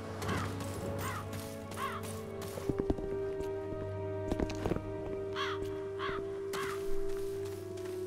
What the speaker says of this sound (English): Here is a crow.